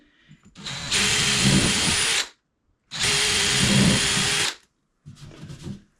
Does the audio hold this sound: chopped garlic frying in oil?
no